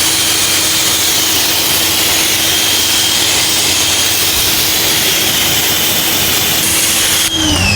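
Loud, steady broadband hiss of a pressure-washer spray rinsing a John Deere 4066 tractor, running continuously, with a constant motor drone underneath and a brief change near the end.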